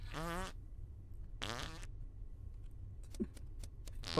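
Two fart noises, each about half a second long, with a bubbly, wavering tone; a quiet pause follows, then faint clicks and ticks, and a short fifth burst at the end.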